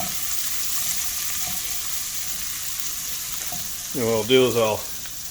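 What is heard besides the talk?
onion searing and sizzling in a pan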